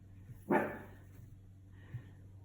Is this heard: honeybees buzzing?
no